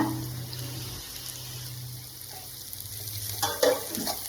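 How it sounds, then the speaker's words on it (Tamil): Onions, green chilies and curry leaves sauté in a pan for home-made Tamil pepper chicken, giving a soft continuous sizzle with faint stirring scrapes and a few clinks near the end, fairly quiet and close. "நல்லா வதக்குங்க"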